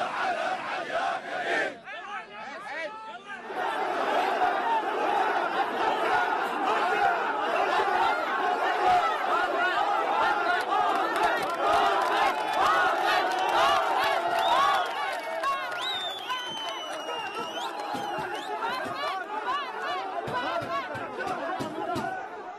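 Protesters at an Iraqi Airways company headquarters chant and shout against the director general, a dense crowd roar of overlapping voices that surges loudly for most of the stretch, then thins into scattered shouting and chatter.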